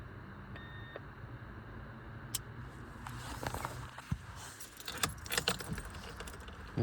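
Car keys jangle close by while the ignition of a 2020-onward Nissan Juke is switched off; a run of bright, irregular metallic clinks builds toward the end over a low steady hum.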